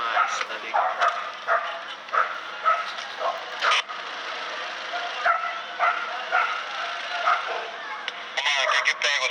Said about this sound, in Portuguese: Mano, que pega os cachorros? Tá latindo aí, velho.